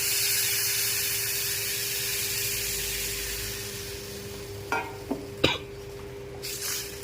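A steady sizzle rises from a pot as tamarind water is poured into vatha kuzhambu, and a few sharp scrapes and knocks of a spoon stirring against the metal come toward the end.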